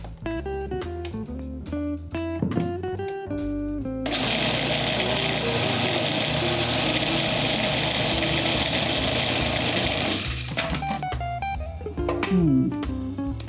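A food processor whirs steadily for several seconds, blending goat cheese with olive oil, toasted pumpkin seeds and basil into a dip. Music plays before and after the loud, even motor drone.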